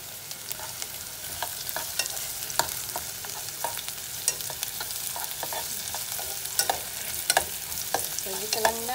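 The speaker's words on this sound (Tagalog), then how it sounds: "Igisa lang natin yung ating bawang, luya at sibuyas hanggang sa maamoy natin yung aroma ng ating sibuyas, bawang." Garlic, ginger and onion sautéing in a pan for an Ilocano pakbet, a steady close sizzle with stirring scrapes and small clinks throughout, no voices.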